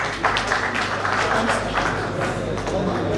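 A hall audience at an Enugu State citizens' engagement meeting on the 2021 draft budget gives a brief burst of hand clapping, continuous and fairly close, with a voice speaking over it.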